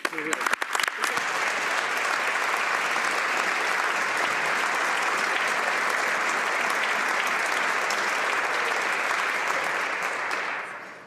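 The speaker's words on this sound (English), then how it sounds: "join me in a round of applause to recognize Dr. Burlingett's important contributions" Applause in the House of Commons: a few scattered claps, then a full chamber clapping loudly and steadily for about ten seconds before it stops.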